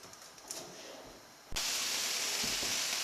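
Spam frying in a pan, quiet at first, then a loud, steady sizzle that bursts in abruptly and keeps hissing close by.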